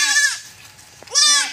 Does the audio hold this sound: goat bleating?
yes